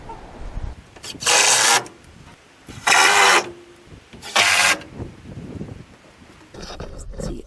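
A screw being driven in by a power driver while fitting a toilet in a homestead outhouse, three loud buzzing bursts of about a second each separated by short pauses, close up over low background noise.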